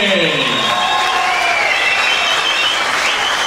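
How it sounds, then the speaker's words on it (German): Audience applause and cheering for a Muay Thai fighter in the blue corner, a steady dense roar of clapping filling the arena, with voices heard over it throughout. "einen großen Applaus an die Kämpfer in der blauen Ecke"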